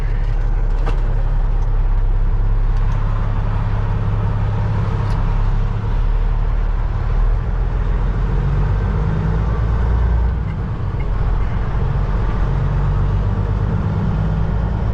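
A straight-piped Peterbilt truck with a 315-inch wheelbase pulls away from a stop, its engine a steady, heavy low rumble heard from inside the cab.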